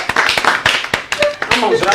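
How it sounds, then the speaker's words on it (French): A group applauds for Charlène with loud, close, uneven claps, while voices and talk run alongside the clapping. "applaudissez pour Charlène si vous n'avez pas mangé"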